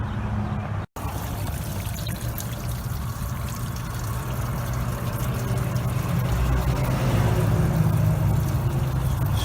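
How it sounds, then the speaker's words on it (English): Water drains out of a 454 R35 dually truck radiator, pouring and trickling steadily in a continuous splashing stream, fairly loud and close, growing slightly fuller toward the end. "Straight water coming out of it."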